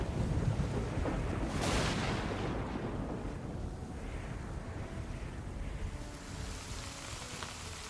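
Heavy rain pours steadily on a high plateau in China while a deep rumble of thunder rolls through, loud and close, fading into continuous downpour.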